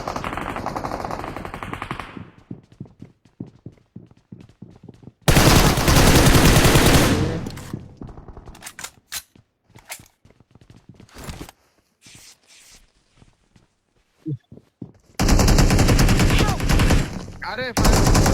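Bursts of automatic machine gun fire in a Bangladeshi battle royale lobby match, loud and sustained in two long volleys with scattered single shots and footstep-like clicks between them.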